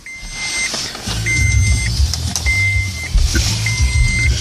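A Toyota Prius powers up with four evenly spaced electronic beeps chiming over a low car cabin hum, close and clear, without talk.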